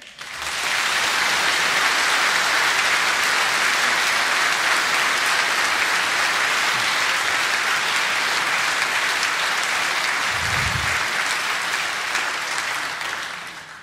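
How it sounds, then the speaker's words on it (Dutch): Sustained applause from a concert audience after a men's choir performance, steady and dense throughout with a brief low thump near the end. "nog één keer de handen op elkaar te brengen in een applaus"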